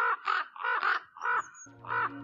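A raven calls in a run of about five harsh, hoarse croaks in quick rhythm, close and clear, followed by a final croak over a faint low hum.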